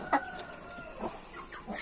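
Farmyard chickens and roosters clucking in short bursts and a drawn-out crowing call, fairly faint and at moderate distance, with no talk.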